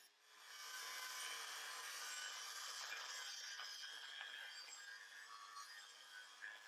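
Sawing during custom bumper fabrication makes a steady, faint, hissing rasp that runs for several seconds with slight changes in stroke.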